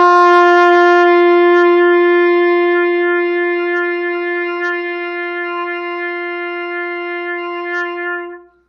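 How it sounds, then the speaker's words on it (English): An open G rings out on a trumpet as one long, steady, close note with bright overtones, held for about eight seconds before cutting off cleanly, with no voices over it. "I'm going to play a G, another open note, the next open note above that."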